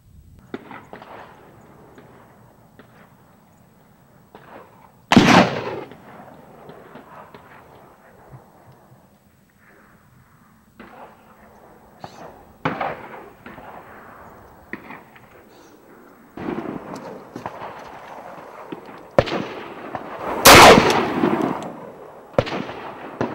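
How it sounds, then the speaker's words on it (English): Sharp, loud single shots from a .45 caliber hollow point handgun ring out at irregular intervals, a few bangs spread over quiet stretches with faint background movement. "the last shot you just saw was a 45 caliber hollow point"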